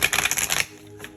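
A quick burst of tarot cards riffling together, rapid papery flutters for about half a second, then near silence.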